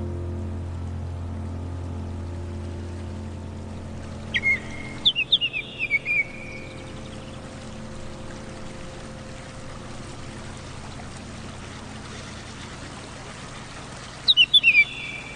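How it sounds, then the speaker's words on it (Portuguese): Birds along a forest trail let out short bursts of bright chirps, once in a quick cluster and again near the end, over a low steady hum with quiet stretches between calls. "ouvindo o canto dos pássaros"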